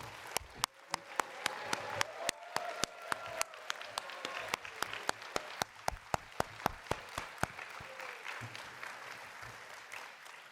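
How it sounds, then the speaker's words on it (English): Guests at a scholarship and awards gala applaud the board with sparse, distinct handclaps that come in an irregular string over a quiet room and fade after several seconds, faint and fairly distant. "Can you please get a round of applause and have our board stand?"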